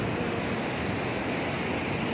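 Sea waves washing onto a black sand beach at Batu Kukumung, Cidaun, form a steady, continuous broadband roar with some wind and no voices.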